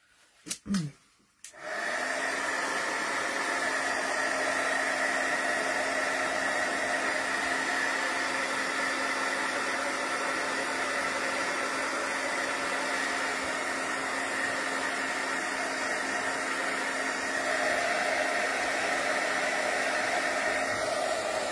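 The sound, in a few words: hair dryer drying a wet journal page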